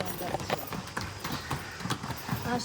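Horse hooves clip-clop on the stone streets of Hydra, a car-free Greek island town, in an irregular series of close knocks heard under a continuous narrating voice.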